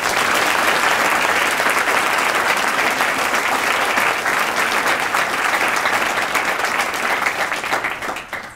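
Sustained audience applause at a Teacher of the Year celebration, loud and even throughout, thinning and fading out near the end.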